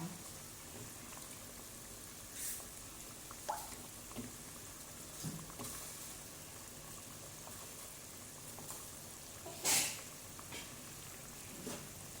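Water bubbles and simmers quietly in a pot for Thai green curry with pork, with faint pops and occasional sharper clinks over a steady low hiss.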